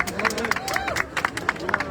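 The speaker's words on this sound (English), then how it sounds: "Let's give another round of applause for Waldo." A protest crowd outside US consulates in Toronto claps and cheers for a speaker, with dense, rippling applause that swells and dips over two seconds while voices chatter through it.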